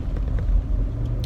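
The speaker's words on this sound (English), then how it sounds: "Yeah, I didn't even know school buses could move that fast." A school bus drives fast, giving off a low, continuous engine and road rumble that stays steady and close for a brief moment.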